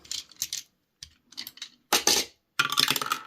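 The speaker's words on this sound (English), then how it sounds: "so if I just roll a dice" A ten-sided die rolled and clattering across a hard surface, several short rattling bursts of hard clicks with brief pauses between them, close and fairly quiet, no talking.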